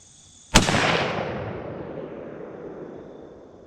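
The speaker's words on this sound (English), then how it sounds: "Max is going to shoot the 350 Legend at 100 yards now" A single loud, sharp crack from a 350 Legend rifle fired at a 100-yard target on a shooting range, followed by a long rolling echo that slowly fades away.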